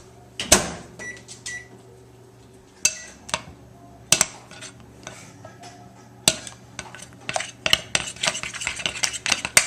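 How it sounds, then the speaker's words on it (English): A microwave hums steadily while melting coating for Oreo balls, with sharp clinks and clatter of bowls, utensils and stirring close by, growing busier toward the end. "So I'm just going to put these in the microwave."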